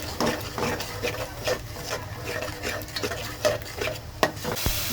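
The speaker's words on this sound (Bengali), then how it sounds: "দু তিন মিনিট সুন্দর করে মশলাটা কষিয়ে নিলাম" Chili and turmeric powder masala fries in a pan for spicy chicken bhuna while being stirred, giving a low steady sizzle under frequent close scrapes and light knocks of the spoon, with no voices.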